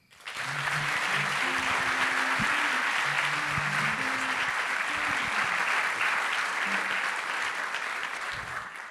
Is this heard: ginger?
no